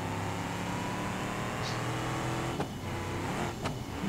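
A city bus engine in the BeamNG driving game holds a steady, loud drone with nitrous engaged, revving high near the limit, with a couple of brief sharp clicks toward the end.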